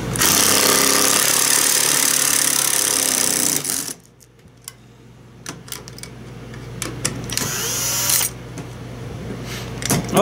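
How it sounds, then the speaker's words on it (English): Power tools run loud and close with a harsh, rattling grind for about four seconds, then cut out, leaving scattered clicks, knocks and brief bursts of mechanical handling noise. "I just like using power tools."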